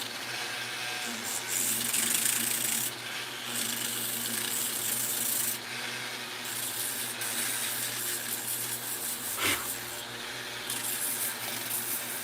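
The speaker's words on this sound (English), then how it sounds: "What happens if I use the edge of this little sander?" A small sander runs continuously against an art piece, its edge used to round off a sharp back section: a steady close whirring grind with brief shifts in tone and a short sharp contact sound partway through.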